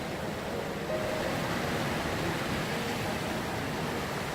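A river on Dartmoor near Steeperton Gorge rushes steadily, a broad, constant watery roar heard close and alone with no voices.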